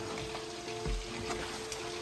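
Chicken pieces stirred and tossed through sweet and sour sauce in a pan, giving a steady low sizzle with soft scraping and a few spoon knocks, close and continuous.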